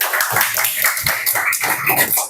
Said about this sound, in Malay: Okey, beri tepukan.